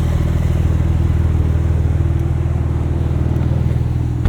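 A 2023 Porsche 911 Turbo S engine drones steadily from inside the cabin on a low-friction handling course at the Porsche Experience Center, a loud, even rumble with a faint rhythmic pulse and no talk.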